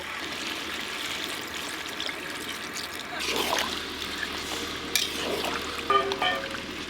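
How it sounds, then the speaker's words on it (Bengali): Coconut milk poured into a potol dolma curry of pointed gourds coated in spice masala, a gentle trickling splash rising over a low simmering background, close by. "এবার নারকেলের দুধ দিয়ে দেব।"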